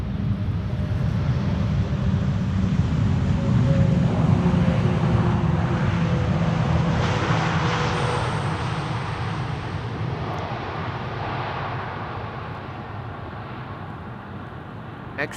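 Airliner landing on runway Polderbaan 18R at Amsterdam Schiphol, a loud broad jet roar that swells and then slowly fades as the aircraft passes and rolls out.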